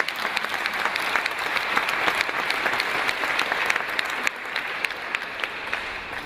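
A church congregation claps for a visiting preacher, a dense, continuous round of applause from many hands, loud and even, easing only slightly partway through and carrying on to the end.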